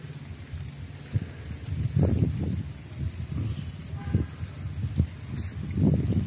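Rain falls in a steady, rushing wash, with heavier gusts and splashes now and then.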